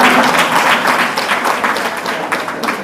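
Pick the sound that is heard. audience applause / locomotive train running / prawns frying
audience applause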